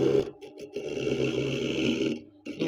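A hotel coconut scraper machine grates a large coconut with a continuous close, rough grinding drone that rises and falls and briefly cuts out.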